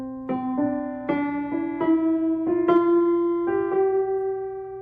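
Digital piano notes played slightly flat and out of tune, a slow run of separate, clear tones of even loudness, each ringing on briefly before the next, with no talking.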